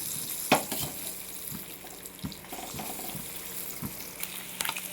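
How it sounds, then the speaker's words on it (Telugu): Eggs fry in hot oil with turmeric, giving a constant soft sizzle broken by several sharp taps and scrapes of a utensil, close by. "ఆయిల్ బాగా హీట్ ఎక్కాక ఎగ్స్ని ఫ్రై చేసుకుందాం"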